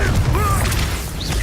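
Confringo fire-blast spell cast in Hogwarts Legacy, a loud burst with a fiery crackling whoosh and a rising magical shimmer, sustained over a low rumbling bed for about a second and a half.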